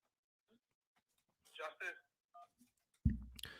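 Telephone dialing tones on a call-in line, with a few short tone bursts near the end close after quiet, sparse talk.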